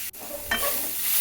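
Jackfruit thoran is stirred in a pan, a short burst of sizzling and a soft scraping sweep about a second long, close and alone.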